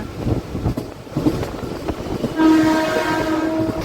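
A MEMU passenger train runs past green fields, its wheels rumbling and clattering close by before a sustained horn cuts in and holds over the running noise to the end.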